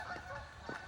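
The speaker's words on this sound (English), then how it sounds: "the geese" Migrating geese honk outdoors, a few faint, distant calls over a steady background hiss.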